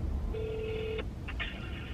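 Telephone keypad tones sound while placing a call to a salon, one long steady beep followed by two shorter tones over a soft background hum.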